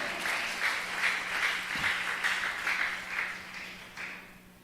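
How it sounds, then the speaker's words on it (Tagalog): Church congregation at a JMCIM preaching service breaking into sustained loud applause, many hands clapping together at close range for several seconds before it gradually thins out. "Malakas palakpak sa ating mahal Panginoon."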